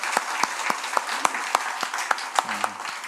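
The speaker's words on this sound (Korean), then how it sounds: "우리 격려의 박수 한번 다시 한번" A church congregation clapping in encouragement after a special song, a small group of fairly sparse, evenly paced claps with a short murmur of voices near the end.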